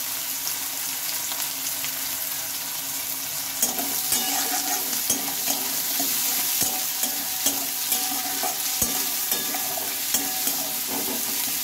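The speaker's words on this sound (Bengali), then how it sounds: "পেঁয়াজগুলো আমি একটু ভালোভাবে ভেজে নিয়েছি" Chopped onions fry in oil with a constant close sizzle, broken by sharp scrapes and taps of a spatula against the pan that grow more frequent in the second half; nobody speaks.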